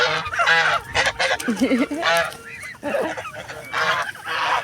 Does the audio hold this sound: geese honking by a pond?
yes